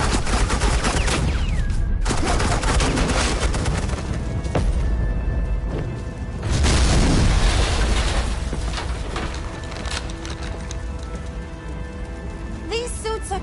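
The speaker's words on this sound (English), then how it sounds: "Suppressing fire." Sustained gunfire from a video game in a loud, dense fusillade of overlapping shots and booms that run almost without a break, while characters talk over the din.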